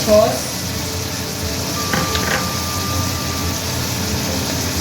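Sauce goes into sizzling chilli paneer in a pan and gets stirred, a steady close frying hiss with brief scraping stir sounds partway through.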